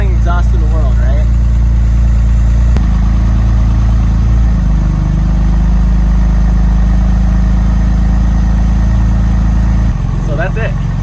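A Porsche 996 Turbo engine, fully warmed up, idles steadily through a Fabspeed Gen 1 exhaust with 100-cell cats, a deep, even, fairly quiet exhaust rumble close by, with brief voices near the start and end.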